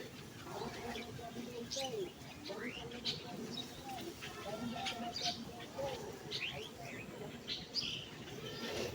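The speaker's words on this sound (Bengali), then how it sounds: "কতগুলো পাখি পড়ছে, এখন দিয়ে যাবো, সব উড়ে যাবে" Small birds chirp and tweet intermittently in the background, faint and scattered, with people talking over them nearby.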